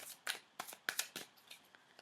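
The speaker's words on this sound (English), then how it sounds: "I'm just going to quickly shuffle" A deck of cards is quickly shuffled for a tarot-style reading, producing soft riffling bursts and flicks in quick irregular succession, close and quiet, with no talking.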